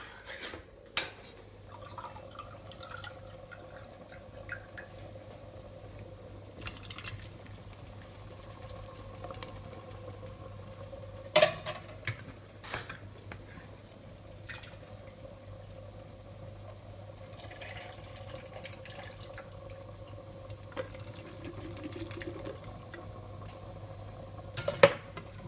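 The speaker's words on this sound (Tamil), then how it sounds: "இப்போ லாஸ்ட் மினிட்ல வந்து நான் என்னுடைய பட்டர் பீன்ஸ் போட போகிறேன்." Tinned butter beans tipped into a pot of potato masala and stirred, with a few sharp clinks of a utensil against the pot over a low, steady simmering hiss and soft patter throughout.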